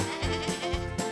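Several goats bleating in quick succession, close and fairly loud, with overlapping wavering cries and no talk.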